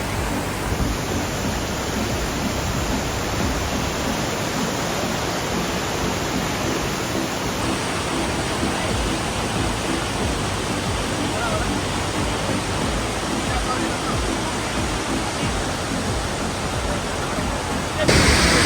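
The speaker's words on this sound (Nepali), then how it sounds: "यहाँ एकै ठाउँमा दुईवटा झर्ना छ" Lauke waterfall in Nuwakot, one of two falls side by side, roars as a steady, dense rush of falling water close by, constant and loud throughout with no break.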